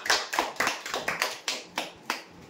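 A handful of people clap sparsely for a geyser winner at a weekly customer lucky draw, with about nine separate, fairly quiet claps in an uneven rhythm.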